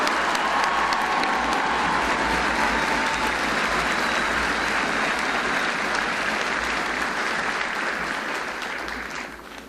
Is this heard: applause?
yes